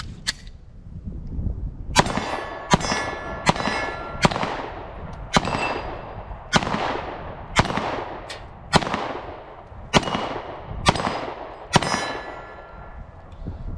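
A Sig P365 XL or Springfield Hellcat pistol with a micro red dot fires about a dozen loud shots at a steel target, each sharp crack ringing with a metallic clang, spaced fairly evenly at roughly one per second, with no voices.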